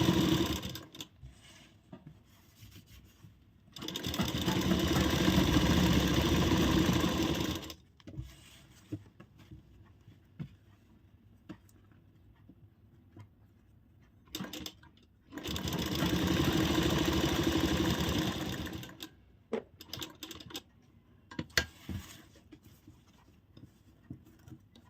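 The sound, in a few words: sewing machine stitching a piped kurti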